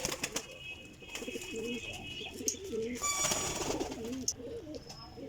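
Teddy pigeons give soft, repeated low coos, close and continuous, with chirps and a little wing movement in the background.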